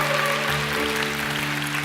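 A church congregation applauds a goalkeeper honored at the Asian Games, a continuous dense wash of clapping over a sustained tonal hum of organ or music in the room.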